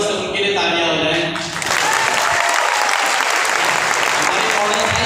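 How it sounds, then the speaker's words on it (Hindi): Audience applause for the models at an event, a sustained dense roar of clapping that swells in after about a second and a half of a speaking voice and holds loud and steady to the end. "हमारे जो मॉडल्स हैं उनके लिए तालियां हो जाए।"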